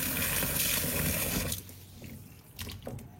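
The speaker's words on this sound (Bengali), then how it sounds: "কাঁঠাল ভালো করে ধুয়ে নেব এখন।" Water runs and splashes as jackfruit is washed for cooking, a close, busy stream that quiets after a second and a half into faint drips and trickles.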